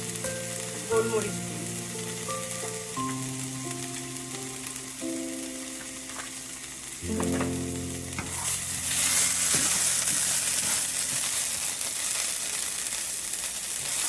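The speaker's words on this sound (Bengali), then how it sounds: "এই মশলাটাও ভাজা হয়ে গেছে" Kashmiri chili powder and black pepper sizzle in hot oil in a pan while being stirred. Musical tones play over the start, then the frying hiss swells louder and steady toward the end.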